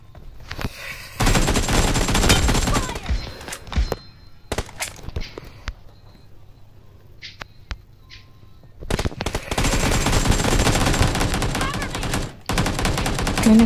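Bursts of rapid automatic gunfire from a mobile team deathmatch shooter game come in two long volleys separated by scattered single shots, thuds and footsteps, loud and close.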